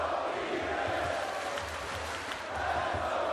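A fight-night crowd cheers and roars in a steady wash behind the action, moderately loud with rising and falling swells and some voices mixed in.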